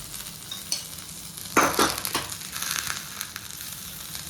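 Ragi roti topped with sesame seeds sizzles in ghee on a dosa griddle, a soft steady frying hiss with a few louder crackling bursts in the middle, no talking.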